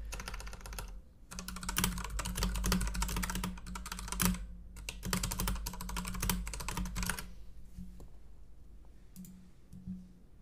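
Quick bursts of keyboard typing, rapid clustered keystrokes with short pauses between runs, close and fairly clear.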